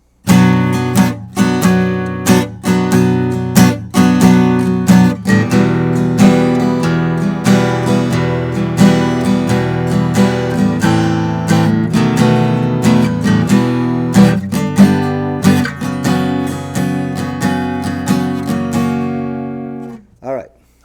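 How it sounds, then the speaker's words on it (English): Strummed rhythm guitar playing steady chords with sharp percussive strokes, loud and close, ending with a final ringing chord. "in this song, you're going to hear a bit of rhythm guitar, and it's going to sound like this."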